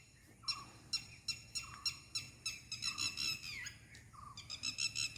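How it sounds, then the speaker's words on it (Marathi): A bird calls loudly near farm fields in a village rice-planting area, giving a rapid series of sharp, repeated whistling notes against a soft outdoor background. "पक्षी ओरडतोय बघा केवढा"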